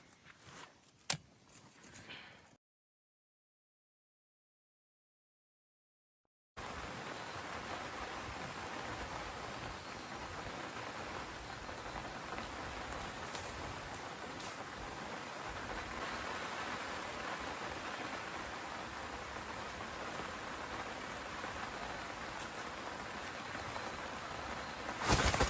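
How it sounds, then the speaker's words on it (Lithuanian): Steady rain falls at a fishing pond, a dense even hiss that holds for about twenty seconds after a short quiet gap, close and fairly loud, with no talking over it. "ateina lietus."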